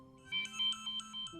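A phone ringtone for an incoming call, a short bright electronic melody of repeated beeping notes heard clearly and alone.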